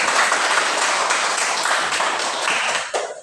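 Students in a classroom clap together in a dense, close burst of hand claps that carries on steadily before tapering off at the end.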